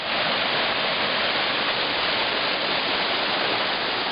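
A steady, loud rushing roar of the Zhenets waterfall, continuous and unbroken, with no voices.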